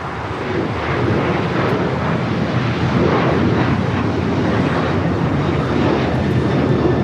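An airliner takes off from runway 25 right at LAX, a loud, broad, steady engine roar that swells in the first second and holds throughout without voices.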